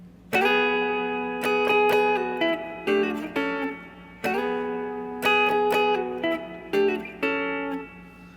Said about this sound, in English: the next 4 bars features a double stop and sounds like this